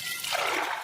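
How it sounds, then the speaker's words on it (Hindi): Water poured into a pot of peas that were soaked since morning, set to boil: a short, close splashing pour under a second long. "अब मैं इसमें डाल दे रही हूँ पानी उबलने के लिए।"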